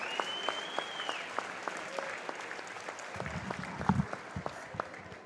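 Crowd in a school gym at a boys' varsity wrestling dual meet applauding seniors and their parents, sustained clapping with distinct sharp claps over a sliding tone, and a brief voice near the end.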